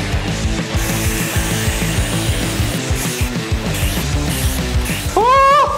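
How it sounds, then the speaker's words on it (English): A handmade dagger blade is pressed to a spinning buffing wheel, giving a loud, steady motor drone with rhythmic pulsing and a rising whine near the end. "On to buffing."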